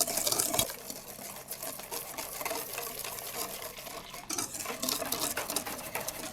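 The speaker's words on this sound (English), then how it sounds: "Once my Thai tea milk is ready, I'm going to pour this into my sugar, cornstarch, and egg yolk mixture." Thai tea milk poured a little at a time into a mixture of sugar, cornstarch and egg yolks, with a soft steady liquid pour and whisking and utensil clinks against a bowl, close and moderately quiet.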